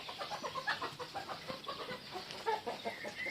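A small backyard flock of roosters and hens clucks softly and continually, with brief sharper calls over a faint background hum.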